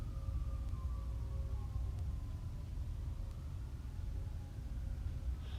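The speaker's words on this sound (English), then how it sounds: "We'll wait for the sirens to pass." Faint wailing sirens drift past in the distance over a steady low traffic rumble, their tones sliding downward as they fade away.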